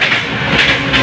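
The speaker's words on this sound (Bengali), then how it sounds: "1 নম্বরে ট্রেন ঢুকতেছে শিয়ালদার ট্রেন" A Sealdah-bound train pulling into platform 1, a loud close rumble with rhythmic clickety-clack of wheels over rail joints filling the whole moment.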